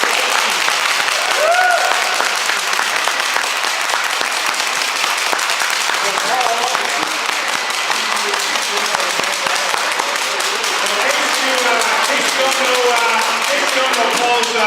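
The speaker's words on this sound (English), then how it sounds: "great round of applause." A crowd gives a sustained, loud round of applause at an event honoring a Paralympic sledge hockey gold medalist, dense clapping holding steady for about fifteen seconds.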